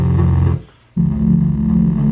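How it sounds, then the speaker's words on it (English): Synthesizer bass added beneath a looping synth pattern, a thick, loud sustained tone that drops out briefly and then returns louder and lower, with no talking. "Gonna add a little bass with this sound."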